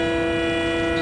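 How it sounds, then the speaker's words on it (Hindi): An Indian Railways WDP 4D diesel locomotive horn in a train simulator game sounds as one loud, steady, sustained tonal blast that holds unbroken for the full second, with no voices over it. "WDP 4D के हॉर्न आपको कैसे लगे"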